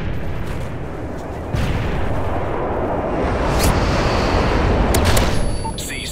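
Bomb run explosions in the shooter Modern Warfare 3 during a Domination match: a continuous roaring rumble of blasts and booming detonations, loud and sustained, with sharp crackling pops of gunfire breaking through near the end.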